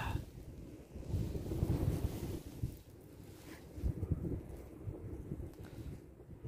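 Strong wind buffets the microphone outdoors during metal detecting, a heavy rumbling roar that rises and falls in gusts with no voices.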